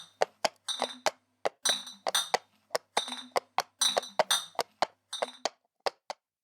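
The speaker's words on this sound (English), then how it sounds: "outside on the street a milk cart clinked and tinkled its carillon" Glass milk bottles on a milk cart clink and tinkle out on a street, a long run of bright, uneven clinks and rattles that come close together, then thin out and stop.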